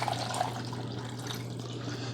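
Water pours into the reservoir of a Chefman K-Cup single-serve coffee maker, model RJ14-UB, from a glass, making a steady close trickle and splash that runs unbroken and alone.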